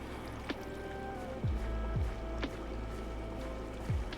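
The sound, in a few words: water being placed in Minecraft, video game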